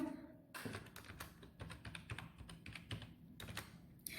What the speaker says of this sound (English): now type password